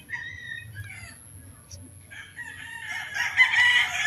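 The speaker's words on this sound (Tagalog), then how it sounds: "Marami dito guys manok." Chickens of various breeds cluck and chatter close by, building toward a rooster's crow near the end over a low background hum.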